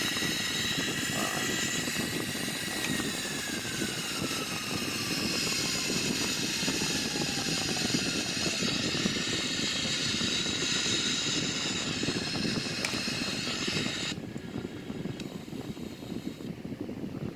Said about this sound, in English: We have maximum reverse thrust like that.